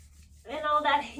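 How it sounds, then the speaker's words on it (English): Hands rubbing together during a chair yoga practice, a brief dry friction swishing that starts after a pause, with a voice speaking over it. "Inhale, coming back and rubbing your hands together."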